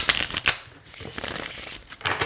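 A deck of Forest of Enchantment oracle cards with rough-cut edges is shuffled up close, with rapid riffling flutters at the start and again at the end, no talk.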